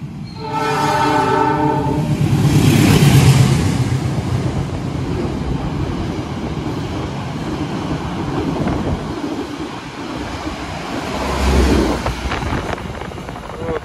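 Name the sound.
train passing by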